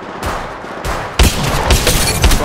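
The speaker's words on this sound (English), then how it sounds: "Shots fired and they're hitting me!" Rapid gunfire bursts from the video game Apex Legends, loud and close, a rattling stream of shots that intensifies into punchy repeated impacts halfway through.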